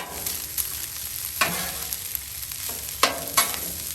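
Fried rice sizzles steadily on a Blackstone griddle, a close, even frying crackle broken by several sharp scrapes and taps of a spatula.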